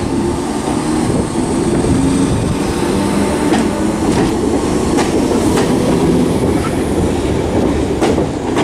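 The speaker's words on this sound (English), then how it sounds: "departing now is going to be 313206. That's going to be the 1153 Southern service starting here at Lewes to Brighton" Southern class 313 electric train 313206 pulls out of Lewes station, a steady close rumble of wheels on rails with faint clicks and squeals throughout, no voices.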